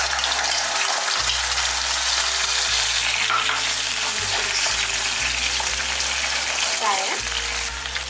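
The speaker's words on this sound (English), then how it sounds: "Now I will put this mixture of curd and coriander and ginger and chili paste," Curd mixed with coriander, ginger and green chili paste sizzles loudly in a hot pan, a constant dense frying hiss with low stirring thumps, and a voice faintly underneath.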